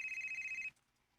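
A telephone rings with a steady electronic warble for under a second and then cuts off, leaving faint background hiss, fairly quiet and alone.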